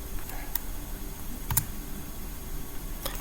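A computer keyboard being typed on to enter a command, a few sparse sharp key clicks spaced apart over a low steady background hum.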